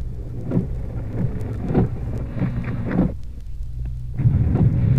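Heavy rain pours down loudly and steadily, mixed with a low engine-like rumble and periodic surging thumps, no talking.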